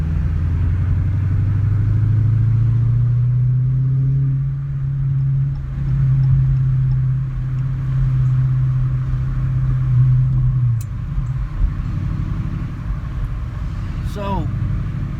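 A car rolls through heavy Friday traffic with a steady low engine rumble and droning road noise throughout, loud and close from inside the cabin, with brief clicks near the end.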